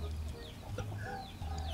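Chicken clucking in short, chirpy bursts, with a steady low hum running beneath, moderately close and fairly quiet.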